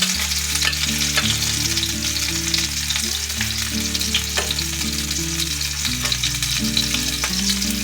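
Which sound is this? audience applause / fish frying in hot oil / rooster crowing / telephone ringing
fish frying in hot oil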